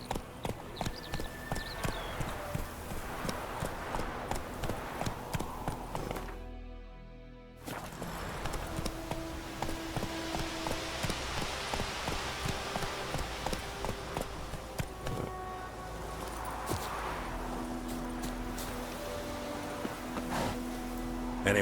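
Geralt's horse Roach, in The Witcher 3: Wild Hunt, trots with steady rhythmic hoof clip-clops on the ground, close and continuous, pausing briefly and then resuming at an even gait amid faint ambient game sound.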